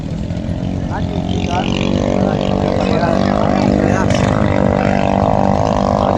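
Racing boat engine droning steadily during Kress Cup national race testing, a loud continuous motor hum with speech over it throughout.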